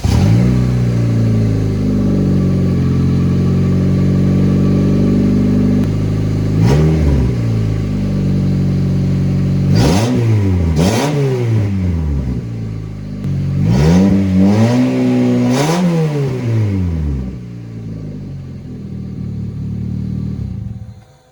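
Turbocharged Honda Civic with an open exhaust cutout and a 2.5-inch exhaust, idling loudly then blipped through several sharp revs that climb and fall back, the last pair close together before settling to idle, recorded close and alone.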